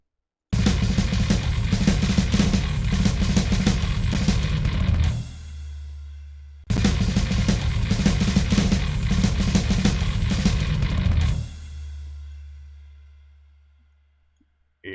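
Programmed metal bass and drums playing together as a dense, loud full-band passage, heard twice, each run cutting off into a fading low bass tail.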